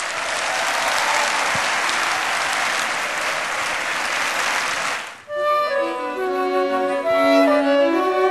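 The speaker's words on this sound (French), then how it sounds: "Je vous demande d'applaudir chaleureusement les diplômés de la promotion 2006." An audience at an EMLYON business school graduation ceremony applauds the graduates with loud, even clapping for about five seconds, which then gives way to music.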